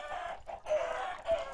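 Minecraft chickens cluck and squawk in short bursts, a few calls close together with brief pauses, fairly quiet and thin.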